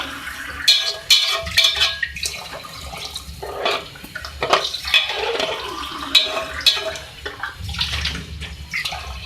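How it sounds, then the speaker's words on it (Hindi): Four glasses of water are poured into a pot of fried dal in a home kitchen, producing repeated splashing and gurgling bursts with short pauses between pours, close and clear, with no talking. "4 गिलास इसके अंदर मैंने पानी ऐड कर रही हूँ।"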